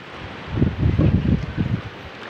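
Strong wind at sea buffets the microphone on a small fishing boat, with low rumbling gusts swelling and dropping in quick pulses, close and loud, with no voices.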